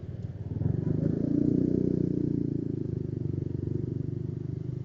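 A Honda Karisma motorcycle engine, overdue for an oil change since restoration, idles close by with an uneven, lumpy pulsing that swells briefly, then settles into a rough, irregular putter.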